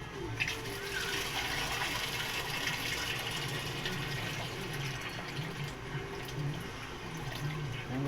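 Water runs steadily from a tap into a plastic bag, a continuous gushing splash with a faint rustle, close by.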